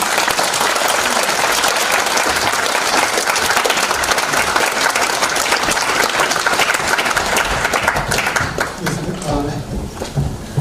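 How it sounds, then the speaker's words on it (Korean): A packed lecture hall bursts into loud, dense applause, many hands clapping continuously for about ten seconds before the sound thins and fades as a voice begins. "자, 박수 주세요."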